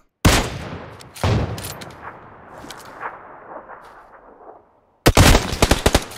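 Sharp bursts of gunfire crack out in PUBG Lite: a loud opening shot, another a second later, then a long fading echo, and finally a quick rapid volley of several shots near the end.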